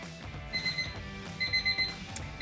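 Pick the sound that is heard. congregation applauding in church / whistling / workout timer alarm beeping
workout timer alarm beeping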